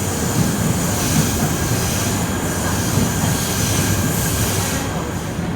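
Continuous loud rumble of a light rail train at an LRT station in Kuala Lumpur, with rolling wheel noise and faint metallic squeal, close by and steady throughout, no voices.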